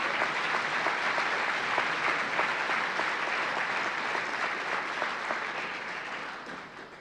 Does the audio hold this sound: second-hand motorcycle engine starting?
no